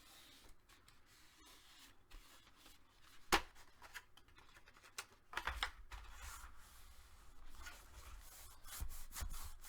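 A glued paper hinge on a handmade mini album is pressed and burnished by hand, giving quiet soft rubbing and brushing with a few sharper scrapes and taps, close and faint, no voices.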